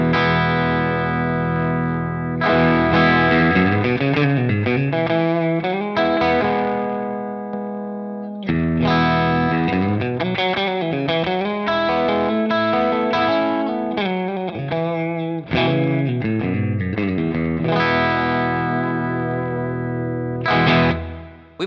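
Electric guitar run through a compressor pedal with the blend knob turned down, playing sustained, effected chords and notes in three long phrases with brief gaps, loud and close with no talking.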